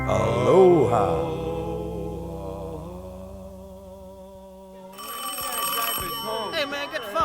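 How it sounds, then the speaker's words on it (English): Telephone ringing in a steady repeating ring beneath music and voices, with the ringing growing more prominent toward the end. "Hey man, get the phone. Answer the phone!"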